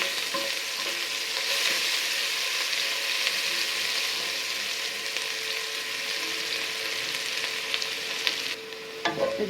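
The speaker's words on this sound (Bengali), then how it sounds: "আমি এখন পেঁয়াজ কুচি দিয়ে দিচ্ছি। কুচিটা একটু লাল লাল করে ভেজে নেব।" Steady, loud sizzling of chopped onions frying in hot oil, a continuous crackling hiss with a few faint stirring scrapes and no voices.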